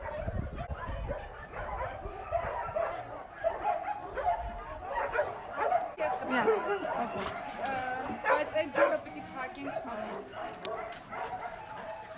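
Rescued dogs at a shelter in Armenia bark, yip and whimper in a dense, continuous chorus of mixed near and far voices, with people talking over the noise throughout.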